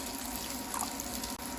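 Water poured from a container into a pan of sauce made with white and dark soy sauce, hot sauce and sugar, a steady close splashing pour lasting the whole moment without speech.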